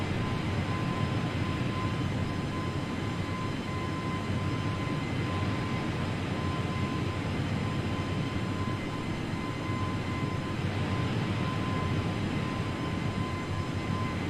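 An F-15 fighter jet engine in Microsoft Flight Simulator roars as a constant, dense whoosh with a thin steady whine on top, loud and unchanging throughout.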